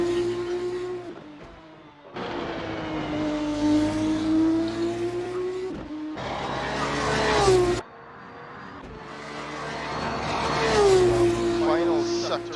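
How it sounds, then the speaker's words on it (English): Formula race car at full throttle on the Baku street circuit, a steady high engine whine rising and falling through gear changes and braking, loud and continuous with brief dips, a commentator talking over it. "He's hanging at full throttle around these two turns here as he moves heavily into the braking zone of that turn."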